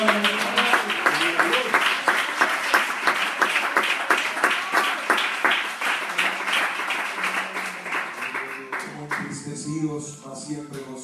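A church congregation claps in a steady, even rhythm for several seconds during a sermon, then the clapping fades as a voice begins speaking in Spanish.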